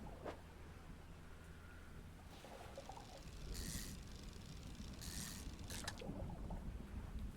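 Rain falls in the fishing video game DREDGE as a steady, moderately loud hiss, with brief brighter gusts swelling over the downpour and no voices.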